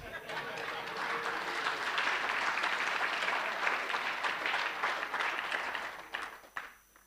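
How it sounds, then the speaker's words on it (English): Loud, sustained audience applause at a radio station's 30th anniversary gala dinner, a thick wash of many hands clapping for several seconds before thinning out into a few scattered claps at the end. "a reverberating round of applause."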